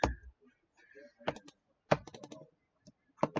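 Quiet clusters of computer keyboard keystrokes tap out in short bursts with gaps between them, close and faint, with no one talking over them.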